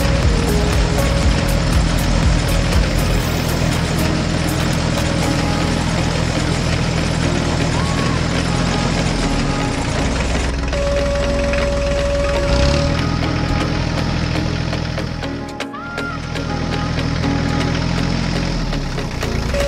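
A yellow tractor engine runs steadily while pulling a rake through a straw field, a continuous loud low drone with a brief dip near the end.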